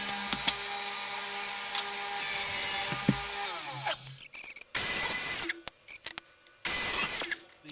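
A power saw cuts a wood panel for a wine rack top down to size, a sustained whining cut that stops, followed by short bursts of tool noise separated by quiet gaps.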